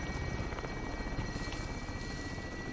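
Steady, close rotor chop of a helicopter in Call of Duty Warzone, a dense continuous thrumming that holds at an even level throughout with no talk over it.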